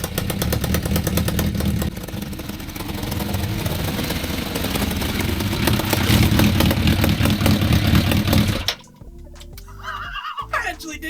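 A quad fitted with a motorcycle engine runs under its own power, giving a loud, close, steady mechanical engine drone that cuts off abruptly near the end, leaving quiet clanks.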